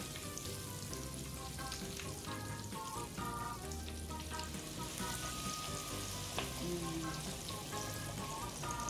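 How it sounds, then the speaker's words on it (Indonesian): Bakwan fritter batter frying in hot oil, a dense continuous sizzle and crackle with faint bubbling, steady and moderately quiet, with no voices. "Lalu kita masukkan adonan ke minyak."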